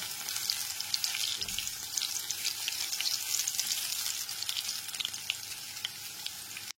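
Potatoes rubbed with salt and turmeric fry in hot oil over a low-medium flame, giving a continuous bright crackling sizzle that sounds close and steady, with faint tapping from a spatula and no voices.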